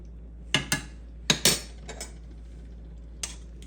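Fondant potatoes being basted in a pan give a few sharp metallic clinks and taps of a spoon against the pan, spaced irregularly over a quiet background.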